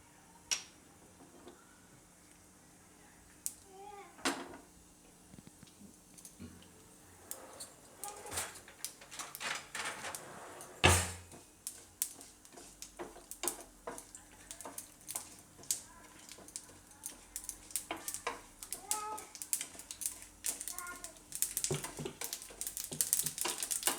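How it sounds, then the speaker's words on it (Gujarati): Mustard seeds and sesame seeds crackle in hot oil for a Gujarati raw-papaya handvo, throwing out scattered sharp pops and ticks that grow denser as the seeds heat, against a quiet kitchen background. "તેલમાં થોડીક રાઈ નાખીશું અને તલ નાખીશું થોડાક."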